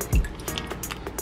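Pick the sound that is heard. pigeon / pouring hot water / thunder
pouring hot water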